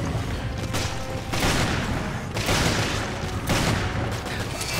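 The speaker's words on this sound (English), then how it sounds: "This gun does so much damage." Rapid gunfire from the video game Resident Evil: Revelations during a final boss fight, a dense barrage of loud shots in bursts that fills the whole stretch with little pause.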